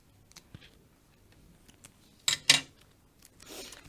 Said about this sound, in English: Let's see if I can just trim this down a bit.